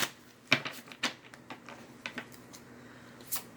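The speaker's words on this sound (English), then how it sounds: "I don't know why I shuffled again." Tarot cards being shuffled by hand, soft irregular riffles and taps spread over a few seconds, fairly quiet and close with no voice over them.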